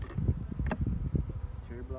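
Honeybees buzz close by during a hive inspection in early spring in North Seattle, a busy low drone with individual bees passing near the microphone.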